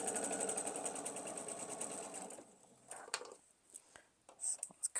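A domestic sewing machine runs a quick steady stitch over quilt block pieces for about two seconds, then stops, leaving soft handling rustles and light taps of the fabric nearby.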